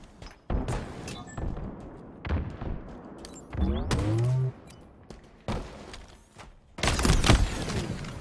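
A remote-detonation explosion in a competitive video game match hits as a sharp, loud burst amid scattered gunfire and thuds, with several separate impacts spread across the clip and a big blast near the end.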